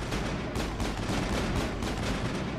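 Loud, dense gunfire fills a Mass Effect firefight, a continuous rattle of rapid shots and bursts overlapping without pause, with no talking.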